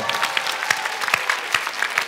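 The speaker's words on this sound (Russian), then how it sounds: "Ваши аплодисменты! Браво!" Audience applause at a singing-contest concert, with clear individual claps on a loose rhythm standing out from the crowd, close and moderately loud, no speech.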